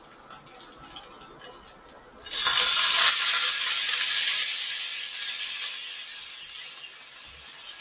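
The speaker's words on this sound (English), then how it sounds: "you can hear the sizzling sound." A hiss of sizzling in a pan bursts in after a quiet start, loud and steady, then slowly fades a little.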